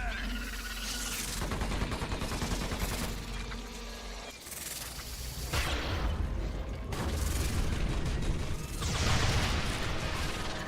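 Steady gunfire and rocket blasts fill an Earth Defense Force: Insect Armageddon battle, dense and continuous with booming explosions throughout.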